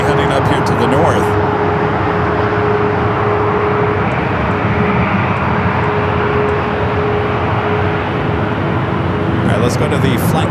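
A Cathay Pacific airliner taxis at LAX, giving a steady, loud jet engine roar with a constant whine that holds through the whole stretch, alone without talk.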